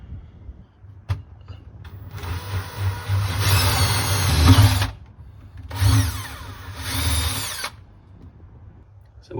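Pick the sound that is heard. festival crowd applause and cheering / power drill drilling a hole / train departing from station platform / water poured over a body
power drill drilling a hole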